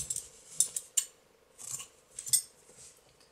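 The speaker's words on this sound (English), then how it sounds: "then fasten off and cut the yarn" Scissors snipping crochet yarn after fastening off, a few crisp metallic clicks in two short bursts, close and fairly quiet, with no talking.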